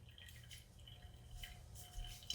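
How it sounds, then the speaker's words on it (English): Strong coffee drips through a filter, with a few faint, scattered drips over quiet background hiss. "let it sit here and drip for a few minutes"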